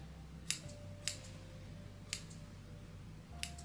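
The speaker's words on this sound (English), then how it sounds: "It's extremely difficult for me to trim the flyaways." Scissors snip flyaway hairs on braids in four sharp, separate cuts spread evenly through a quiet room, close and crisp, with no voices.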